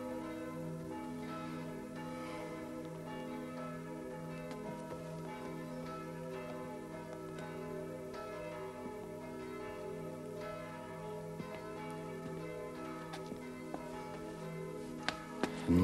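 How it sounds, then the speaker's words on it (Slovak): Church bells ring outside in steady, overlapping peals, heard somewhat distant and continuous throughout, with no talk over them. "Vonku tak pekne zvonia."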